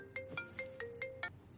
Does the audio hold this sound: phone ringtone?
yes